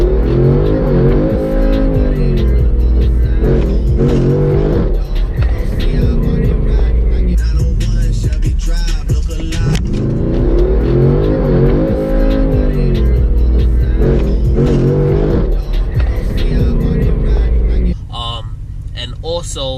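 A Jeep SRT engine roars loudly as the vehicle drives and accelerates hard, with repeated revving surges and possible tire squeal under overlapping voices, then it drops to a quieter idle near the end.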